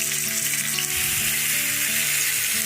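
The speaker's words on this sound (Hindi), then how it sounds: "तकरीबन 2 मिनट हो गए फ्राई करते हुए।" Chicken drumsticks fry in two to three tablespoons of oil in a pan at home. A steady, close hiss and sizzle fills the clip, with faint clinks and stirring underneath.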